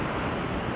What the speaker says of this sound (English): every now and then a big wave comes over and like hugs the rocks